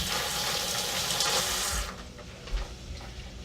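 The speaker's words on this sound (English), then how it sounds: "every time I touch something, I just want to rinse it off" Tap water runs steadily into a kitchen sink while hands are rinsed during seafood dinner prep, a broad continuous splash that cuts off abruptly partway through, leaving quieter room sounds and a soft thump.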